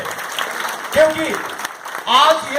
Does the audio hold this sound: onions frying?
no